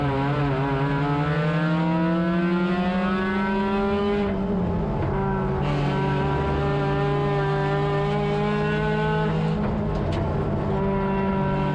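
Spec-Mazda race cars, including a little Mazda Miata, drone steadily in a racing video game, engine notes holding high and shifting pitch as cars close in, loud and continuous without a break.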